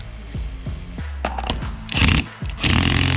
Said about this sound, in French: avec la clé à choc, ça va tout seul